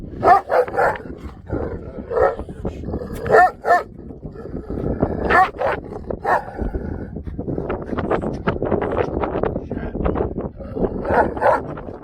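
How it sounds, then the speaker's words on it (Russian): Repeated barks from a large Turkmen Alabay shepherd dog, some clustered and some spaced out, fairly close, mixed with whimpers and yips and a few background voices. "Чабанский собака"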